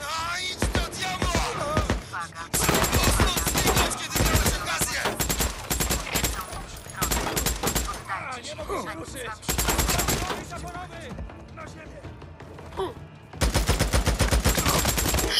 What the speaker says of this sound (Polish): Odnotowano kilka wystrzałów.